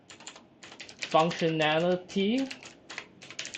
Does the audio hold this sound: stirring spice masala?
no